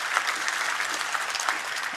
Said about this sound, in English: Let's give our speakers and our sponsors one more round of applause if we could.